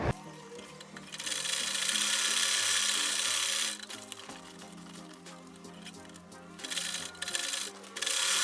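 Sewing machine top-stitching African print fabric for a cap, running in steady bursts of rapid mechanical whirring with short pauses and handling noises between runs, close and fairly loud.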